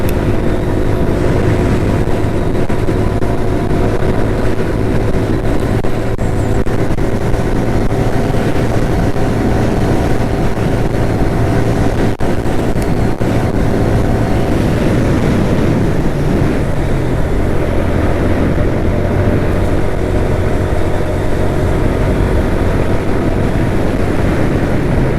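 A Suzuki GS motorcycle cruising at a steady 70-80 km/h on an open road, its low engine drone running continuously beneath heavy, roaring wind buffeting for the whole stretch, with no talking.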